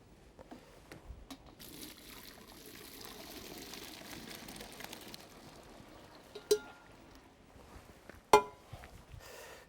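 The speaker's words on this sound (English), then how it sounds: "Let's drain the pasta here." Cooked pasta is poured from a pot into a strainer, a steady rush of draining water with a couple of sharp metallic clinks from the pan and colander.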